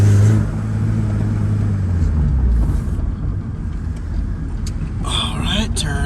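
An Acura RSX with a swapped K24 engine cruising at night, its steady engine drone and road rumble heard from inside the cabin, with a brief lift in revs near the start and faint clicks later.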